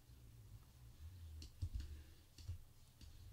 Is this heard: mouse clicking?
yes